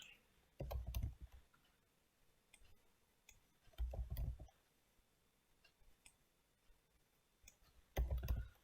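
Keys clatter on a computer keyboard in three short bursts of close, quick typing, with faint isolated clicks and quiet gaps between them.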